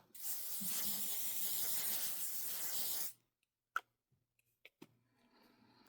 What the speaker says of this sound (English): It's the Melanie Mills Hollywood Super Light Long Lasting Setting Spray.